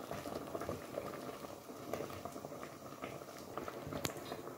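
Ogbono soup with bitter leaves boiling in a pot, a dense, steady bubbling and popping that holds the whole time with no voices.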